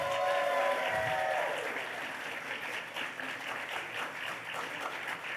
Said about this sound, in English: one more round of applause for every other volunteer here at Everfree Northwest